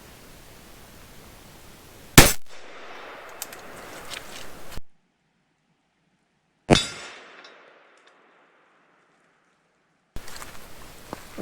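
Two sharp, loud blasts from a .410 shotgun with an 18-inch barrel firing four-pellet triple-aught buckshot at a target 10 yards away, each crack decaying quickly outdoors, with quiet rustling between shots.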